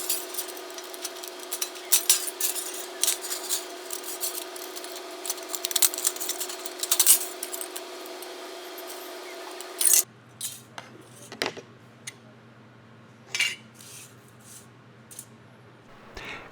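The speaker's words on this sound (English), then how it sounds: "After making the long cuts, I turned the can 90 degrees and cut along the bottom edge to free the shims." Scissors snipping through a thin metal can to make shims: repeated sharp metallic cuts and clinks, close up, with faint jangling handling between them and a quieter stretch of scattered snips toward the end.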